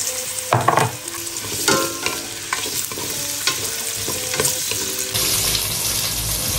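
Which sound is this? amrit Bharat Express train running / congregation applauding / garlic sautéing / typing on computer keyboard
garlic sautéing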